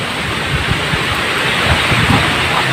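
Typhoon Odette brings heavy rain and wind in a steady, dense wash of noise with low gusty rumbles, continuous and fairly loud throughout.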